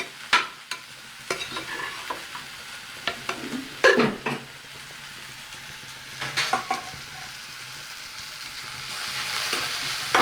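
Half-cooked parotta fries in a pan for kothu parotta, a steady sizzle broken by repeated clattering scrapes and stirring knocks from a utensil against the pan, close and fairly loud.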